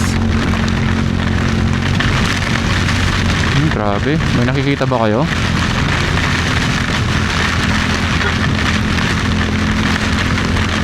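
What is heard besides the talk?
heavy rain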